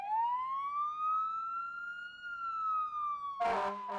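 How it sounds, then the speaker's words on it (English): A fire engine siren sounds outside, one long rising and falling wail passing by at a moderate distance, then cut off by a brief burst of louder noise at the end. "The firefighters don't usually turn the siren on until they get down the street a bit."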